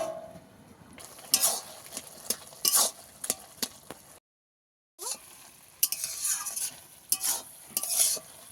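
Rohu fish curry with pointed gourd being stirred in a pan: scraping, clattering strokes under a low sizzle, in bursts with a brief silent gap partway, close and fairly loud.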